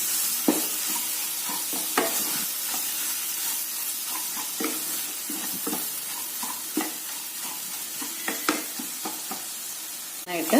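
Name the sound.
sautéing ginger-garlic paste for chicken curry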